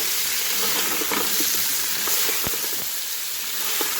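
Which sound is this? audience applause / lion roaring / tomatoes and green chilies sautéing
tomatoes and green chilies sautéing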